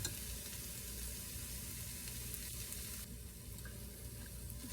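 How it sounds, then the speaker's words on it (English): Spices toasting in a hot pan for vegetarian lasagna give off a soft, steady sizzle with faint stirring, continuous and fairly quiet, with no voices. "See, we're toasting this, getting everything all together."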